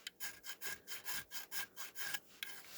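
A model British muscle car body is smoothed and blended by hand, giving about ten quick rhythmic rasping strokes, close and fairly quiet, with no voices.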